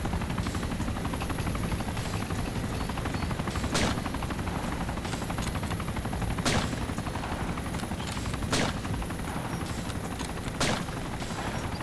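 Helicopter rotor thrumming steadily as it sets down in the DayZ survival game, a continuous loud drone broken by several sharp gunshots ringing out at intervals.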